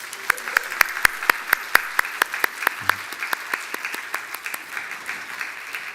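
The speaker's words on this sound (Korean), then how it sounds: "격려의 박수를 하겠습니다" Church congregation applauding in encouragement during a Sunday service, starting as a few distinct, sharp claps that quickly settle into steady, moderately loud clapping from a small group indoors.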